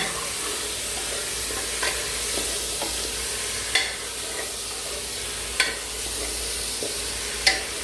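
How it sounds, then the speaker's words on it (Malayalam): Kerala beef curry masala sizzles gently in coconut oil while a spoon stirs it, with a few distinct scrapes against the pan over the constant frying hiss. "2 മിനിറ്റ് ഇളക്കി അതിനകത്ത് വെള്ളവും ഒന്ന് ചെറുതായിട്ടൊന്ന് വറ്റാൻ വേണ്ടിയാണ്."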